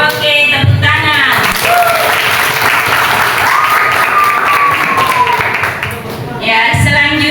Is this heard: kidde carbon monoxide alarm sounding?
no